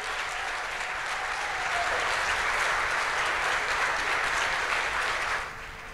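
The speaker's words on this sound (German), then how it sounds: "Sie ist diejenige, die jetzt einmal einen ganz großen Applaus verdient" A large audience at an opening event gives sustained applause, a broad steady roar of clapping that swells in the middle and drops off abruptly near the end, with no voices.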